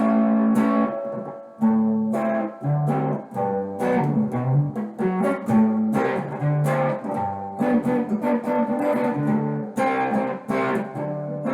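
Electric guitar tone from the neck pickup of an orange 2017 Squier Affinity Stratocaster, played as a continuous melodic run of chords and single notes with a warm, round sound, close and steady throughout with no talking.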